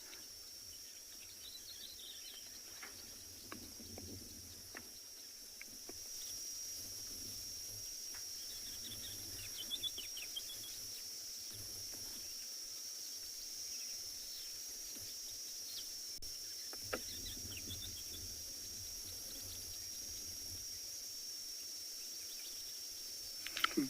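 A calling insect whose hollow back amplifies its sound at sunrise in the Kalahari at Tswalu, a steady continuous high-pitched trill running throughout, with faint bird calls in the background.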